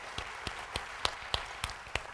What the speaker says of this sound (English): I think I can clap for Corey.